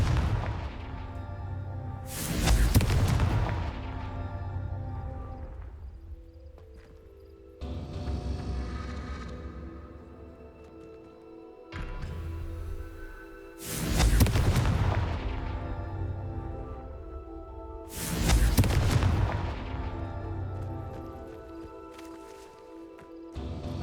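Spell explosions in the video game Hogwarts Legacy: three loud, sharp blasts land about five seconds apart. Each one booms and crackles before fading. Softer game sounds and music fill the gaps between them.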